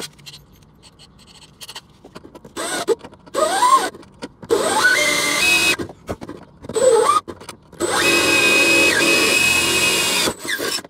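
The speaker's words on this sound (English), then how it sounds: "now that we have drilled the hole" A power drill fitted with a 13/32 bit bores a hole near a car's clutch pedal, with short whirring bursts that rise in pitch, then one long steady run, close and loud, with no voices.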